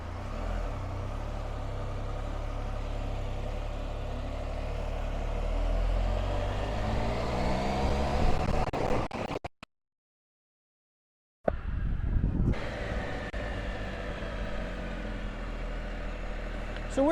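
2019 Can-Am Spyder RT Limited three-wheel motorcycle cruising at low speed, a steady close engine drone with low rumble that rises slightly, cut by a brief silent gap before resuming.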